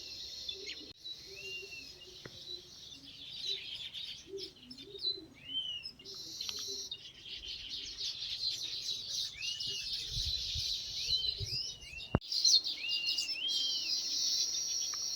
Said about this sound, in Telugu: ఈ పక్షుల కిలకిల రాగాలు